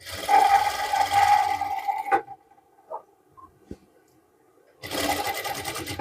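A sewing machine runs loud and close in a steady whirring burst while stitching a gents' kurta placket. It stops for a few seconds, leaving faint clicks, then starts again.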